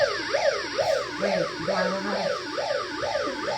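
A bullhorn's wailing electronic siren sweeps up and down repeatedly, loud and close, with a brief spoken remark partway through.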